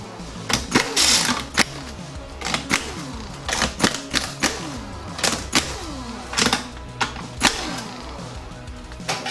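Metal clicks and rattling taps from wrenching out 10mm bolts on a Ford E4OD transmission pan, a quick irregular series of close, sharp ticks and ratchety knocks with no talking.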